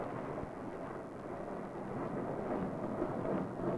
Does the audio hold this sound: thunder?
yes